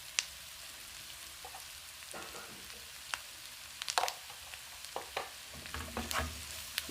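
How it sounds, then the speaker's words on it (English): Keto noodles sizzle steadily in a hot pan with black pepper, white pepper and mixed spices while a utensil scrapes and clatters through them in irregular close strokes, with no talking. "then stir fry everything together"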